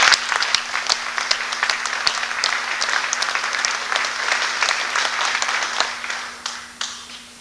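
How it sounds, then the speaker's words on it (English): A banquet audience at an FFA chapter's 50th anniversary evening gives sustained applause, a thick, loud crackle of many hands clapping that tapers off toward the end. "please stand and let's give everyone a round of applause"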